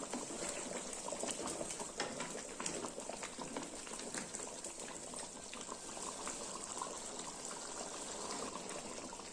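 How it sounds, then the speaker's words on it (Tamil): Egg gravy (kuzhambu) boiling in a pot: a continuous bubbling, popping simmer with fine crackling, fairly quiet and close, heard alone without talk. "கொதிக்குதுங்க நல்லா கொதித்து நம்ம ஊற்றின எண்ணெயெல்லாம் மேலே வர வரையும் நல்லா கொதியாகட்டுங்க"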